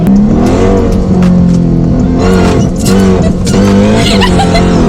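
A 1000 hp Dodge Hellcat accelerating hard with its wheels spinning, a loud, close, sustained engine roar heard from inside the car with rising revs and a brief dip midway, no talking over it.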